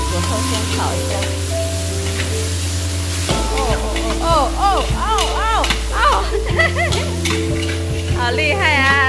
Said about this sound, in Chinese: 然后放一勺豆瓣酱， 然后把鱼骨头先炒一下。